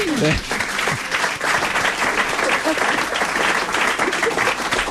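An audience breaks into steady, loud applause during a French comedy talk show, with dense clapping filling the whole stretch and a brief voice at the very start.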